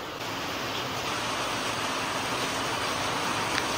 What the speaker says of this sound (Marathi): किती पाऊस पडतोय बा.